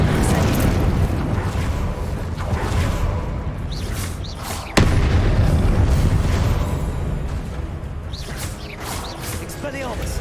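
Repeated Confringo fire-spell blasts from Hogwarts Legacy burst out amid a dense, noisy wizard duel, with one sharp loud crack near the middle and booming impacts spread throughout, under ongoing talk.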